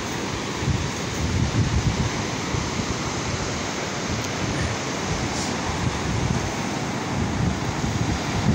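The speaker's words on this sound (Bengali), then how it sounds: "পানির শব্দ দেয়, শব্দটা কীরকম" Ocean waves wash in on the beach at Cox's Bazar with a continuous broad roar, surf surging and receding in soft swells, mixed with steady wind noise on the microphone.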